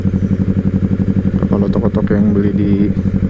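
A motorcycle engine idles steadily on a Sunday morning group ride toward Jakarta, a close, even throbbing hum that runs throughout while people talk over it.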